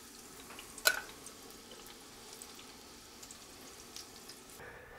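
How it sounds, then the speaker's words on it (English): Soft, steady sizzling of cauliflower frying in oil, with a faint splash and a brief clink near the start; quiet and continuous. "while our cauliflower is frying for 5 to 6 minutes"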